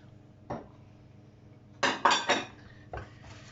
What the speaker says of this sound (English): So I'm going to drop my biscuits in